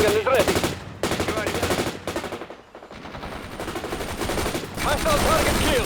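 Rapid bursts of machine gun fire in the World in Conflict war game, loud and continuous with a brief lull midway before the firing resumes.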